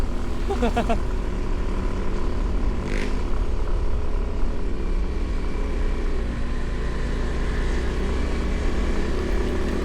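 A motorcycle engine labours under load while climbing uphill on a trip, its steady drone running throughout with some speech-like sounds over it.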